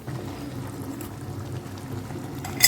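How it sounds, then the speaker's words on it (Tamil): Water pours steadily into a pot of masala sundal with a continuous splashing, gurgling wash, close up, ending in a brief clatter. "இன்னும் கொஞ்சம் தண்ணி கூட ஊற்றிக்கலாம்"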